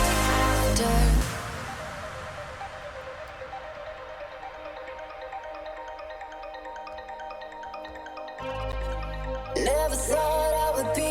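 Electronic DJ mix shifts across into a remix, with a sustained dense synth bed whose low end drops away for a while, then heavy bass and bright layered synths return near the end.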